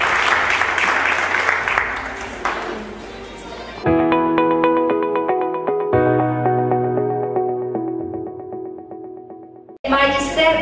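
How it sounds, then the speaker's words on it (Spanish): Audience applause at a university journal launch event, loud and sustained for several seconds, giving way to music, then a fresh burst of clapping near the end. "quiero que le demos un fuerte aplauso"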